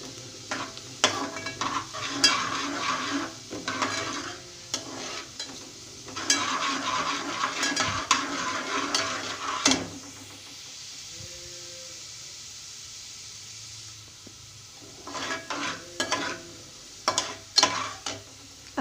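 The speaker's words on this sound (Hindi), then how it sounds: "ठीक है, इसको मैं अब चमचा चलाऊँ।" A spoon stirs garlic and chilies sizzling in a pan, with bursts of scraping and crackling frying for several seconds, a quieter pause in the middle, then more stirring toward the end.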